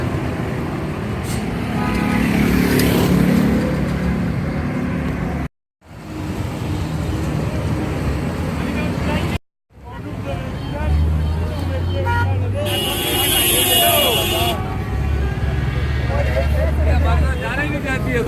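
Traffic churns through a crowded Sunday car market in Pakistan, with engines passing and a background babble of voices. People talk over the noise.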